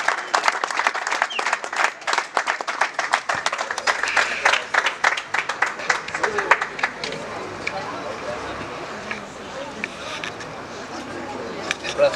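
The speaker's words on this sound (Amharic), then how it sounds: "በቀጥታ ወደ መድረክ ሞቅ ባለ ጭብጨባ ሸኙልኝ" An audience at a car-handover event gives warm applause to welcome a marketing manager to the stage, dense clapping that gradually thins and fades into crowd murmur and faint chatter.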